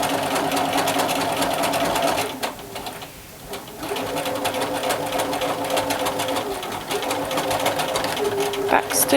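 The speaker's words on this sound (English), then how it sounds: "Start sewing, back stitch. And continue forward." A sewing machine stitches close by with a steady mechanical whir, pausing briefly, then running on while briefly reversing for a back stitch, with a person speaking over it.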